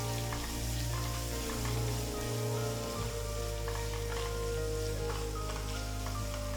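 Garlic, ginger, green chilies and chopped onions sauté in a pan for dal, giving a steady crackling sizzle under a constant low hum, with faint stirring clicks throughout.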